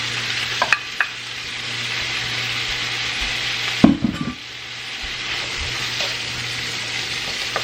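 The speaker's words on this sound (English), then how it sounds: "we go ahead and throw those Brussels in" Brussels sprouts land in a hot pan and fry with a continuous sizzle, a clattering scrape of stirring near the middle, and a few soft knocks, close and fairly loud.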